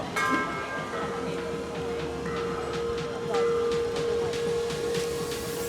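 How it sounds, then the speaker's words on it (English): A temple bell at Chiang Rai's White Temple rings repeatedly, clear metallic strikes with sustained tones layered over a busy outdoor crowd ambience. "There we go, they're ringing the bell."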